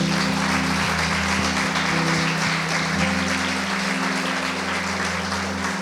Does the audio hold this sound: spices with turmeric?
no